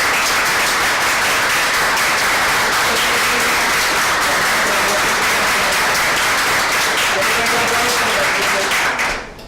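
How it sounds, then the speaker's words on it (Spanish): A crowd applauds continuously for several seconds, a dense steady patter of many hands that fades abruptly at the end. "yo creo que debiera sentir un aplauso nuestro"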